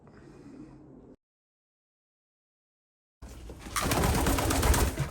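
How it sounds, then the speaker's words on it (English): Racing pigeons coo inside a pigeon shed, a brief murmur at first, then after a silent gap a loud, dense run of cooing and rustling dominates the end. "I thought I'd show you around my pigeons."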